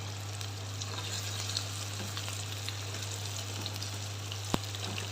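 Meat frying in a karahi with tomatoes, a continuous close sizzle with light crackling and one sharp clink near the end, over a steady low hum, with no talk.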